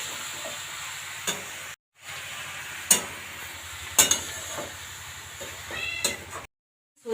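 Banana flower frying in a pan, a steady sizzle close by with several short clatters and pops, broken by brief gaps of silence.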